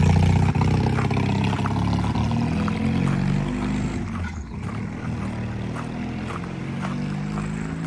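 A Triumph T100 motorcycle engine with wide open pipes runs roughly at idle, a loud, steady, throbbing exhaust note close by that dips briefly midway and then holds on alone.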